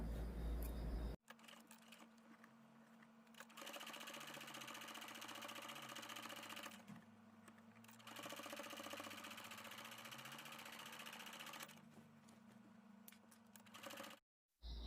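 A sewing machine stitches the sleeves and hem of a linen summer blouse in two long bursts of fast, even mechanical whirring and clatter, separated by brief pauses, close and clear.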